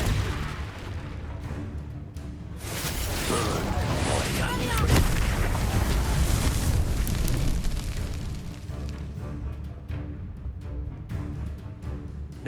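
Confringo blast spells fired in the Hogwarts Legacy video game set off a dense run of loud, rumbling explosions with booming impacts, peaking around the middle and continuing under battle noise.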